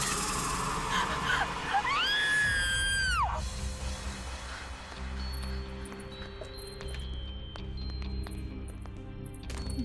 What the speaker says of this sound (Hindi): फिर ये चीख।